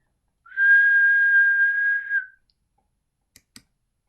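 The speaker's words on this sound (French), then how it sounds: "Commençons par enregistrer un son, comme un sifflement par exemple." A single steady whistled note held for about two seconds, close and clear, recorded into Audacity, followed by silence and two soft clicks.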